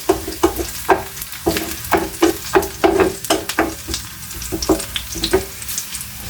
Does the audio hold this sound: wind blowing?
no